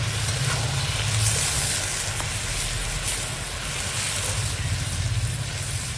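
Sizzling and bubbling from a hot pan of rohu fish curry cooking with kulekhara greens as water goes in, a steady close hiss with no voices.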